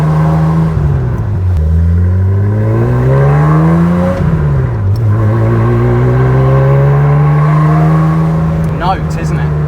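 A modified Porsche 911 SC with an aftermarket exhaust revs hard on throttle, its loud rasping note rising, dipping at a shift, then climbing again and holding, close and dominant throughout.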